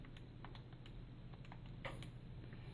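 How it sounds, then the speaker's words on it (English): Numbers are tapped into a calculator in a density lab, a few soft, scattered key clicks heard faintly against steady room hiss. "I'm going to type this in the calculator."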